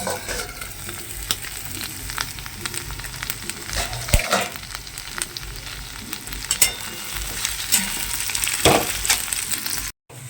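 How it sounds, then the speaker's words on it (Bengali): Vegetables for a spicy pasta fry in a pan with steady close sizzling and occasional stirring scrapes throughout; no one speaks. "সবজিটা প্রায় ভাজা হয়ে এসছে আর সবজিটা সেদ্ধ হয়ে গেছে।"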